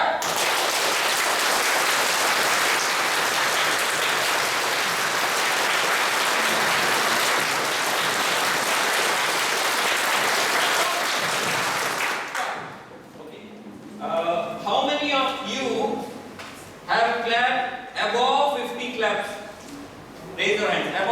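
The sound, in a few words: audience of students clapping hands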